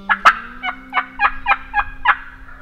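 A wild turkey gobbler in the Pennsylvania mountains lets out a loud, rapid gobble, a rattling series of about eight close-spaced throaty pulses heard alone and fairly near.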